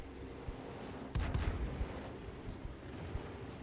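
Tank cannon fire and shell hits in a tank combat video game, a dense rumbling barrage of low booms with a heavier burst of impacts near the start, continuing as steady distant-sounding thuds.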